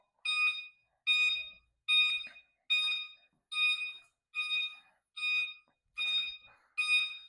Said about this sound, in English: Does beep when the turn signals are on.